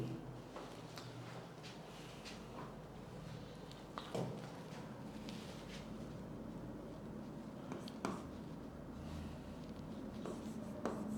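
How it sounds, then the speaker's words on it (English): Quiet scratching of handwriting on paper, soft and continuous with a few small taps, heard close up and without talk. "So I'll write it here again."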